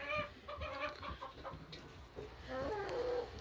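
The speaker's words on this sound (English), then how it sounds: "So we're gonna have to split up the roosters over there on the other pen because I can hear them freaking out." Roosters in a coop pen clucking and squawking agitatedly, several close, overlapping calls in quick bursts.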